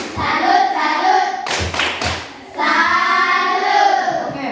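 A group of people in a classroom doing a patterned 'tepuk salut' clap, a few sharp unison claps between stretches of chanted group voices, close and loud.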